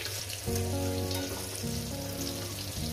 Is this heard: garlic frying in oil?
yes